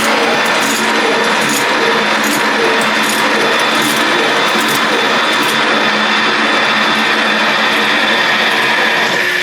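A loud, continuous grinding whine of a large drill bit boring into the metal of a valve seat in a cracked Jeep cylinder head, steady and close throughout with no pauses or voices.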